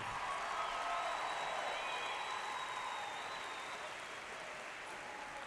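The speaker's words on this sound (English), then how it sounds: "Let's give a round of applause to Director Justin Carpenter" High school graduation audience applauding a concert band, a dense, even wash of distant clapping from a large crowd in a big hall, fairly faint and unbroken.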